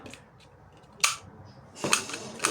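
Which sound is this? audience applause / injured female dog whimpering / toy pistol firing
toy pistol firing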